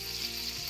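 Cluster beans and potatoes sauté in a hot pan, giving an even, close sizzle of frying throughout, with a faint stir near the end and no voices.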